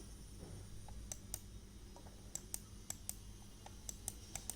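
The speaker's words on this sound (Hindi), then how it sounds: "On doing this the mouse make a clicking sound." A computer mouse button clicked repeatedly: faint, crisp little clicks in an irregular series, some in quick pairs, against a quiet room hiss with no talking.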